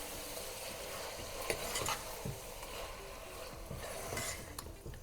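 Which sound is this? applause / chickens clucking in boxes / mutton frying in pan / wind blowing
mutton frying in pan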